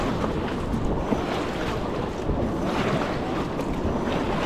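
River raft moving through the Ganga near Rishikesh between Shivpuri and NIM Beach, a loud, continuous rush of water and wind buffeting the microphone, with no voices heard.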